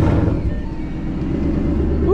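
A Ford Mustang S197 engine fires up on a hot day, a loud close cranking whir settling into a steady low rumble, with someone talking over it.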